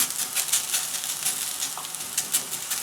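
Steady, dense sizzling of potato rösti frying in a hot pan, a continuous crackle with small pops throughout.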